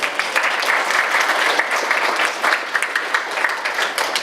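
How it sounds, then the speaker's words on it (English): Sustained round of applause from a banquet audience at a children's awards evening, dense steady clapping from many hands filling the room, with a few louder claps poking through. "So if we could give her a round of applause."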